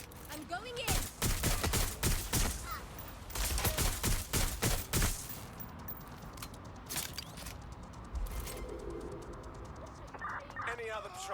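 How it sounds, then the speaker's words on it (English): Bursts of rapid gunfire crackle in loud volleys, then give way to quieter shots and shouting voices amid a busy battle soundscape in Watch Dogs: Legion. "We've got gunfire!"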